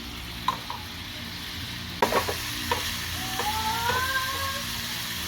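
Pork frying with garlic in a hot pan, a steady close sizzle broken by a few sharp scrapes and stirring knocks, with brief squeaky utensil tones near the end.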